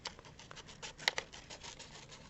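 Scissors cut paper in small, short chomps, a faint soft rustle with a sharper snip near the middle of the quiet passage.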